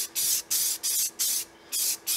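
Base color is spray painted onto small 3D printed resin models from an SLA printer, five short bursts of aerosol hiss in quick succession with brief pauses between.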